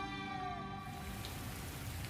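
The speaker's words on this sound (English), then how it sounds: "you gotta do something about this rain" Rain pours in an anime fight scene, a steady dense wash of falling water that takes over after a brief fading tonal chord at the start, quiet and continuous with no speech.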